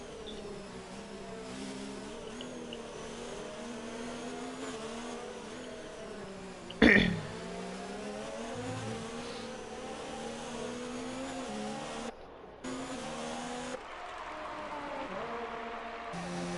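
Formula 1 cars race nose to tail in the F1 2019 video game, a continuous engine whine with one brief loud burst around the middle and a short drop near the end.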